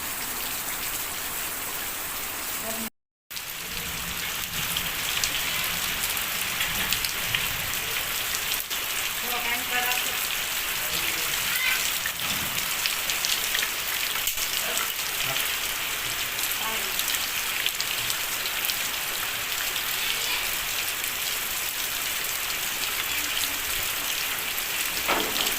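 Rain falls steadily in a Gujarat village, a close, even patter of drops on surfaces that goes on throughout with a brief cut near the start, and voices talk faintly at times.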